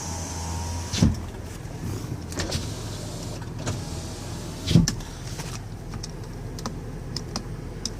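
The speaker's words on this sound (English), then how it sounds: "Test the windows here. Driver's window works." Power windows on a 2019 Dodge Caravan SXT wheelchair mobility van hum quietly inside the cabin. Sharp clicks and thumps land near the start and again midway as each window stops.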